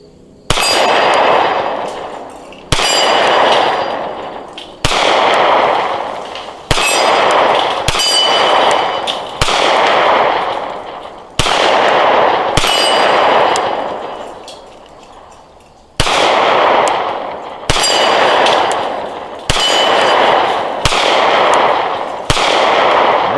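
Canik MC9 pistol fired at two steel targets about 12 to 15 yards away, with roughly a dozen sharp shots spaced about every second or two. Each one is followed by a ringing metallic clang that fades before the next.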